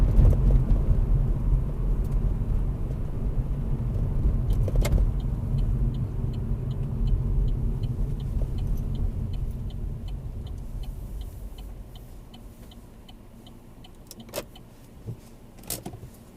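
A car slows and pulls up on the left at the roadside during a driving test, its engine and road rumble easing away until a steady ticking indicator and a few faint clicks remain in the quiet cabin.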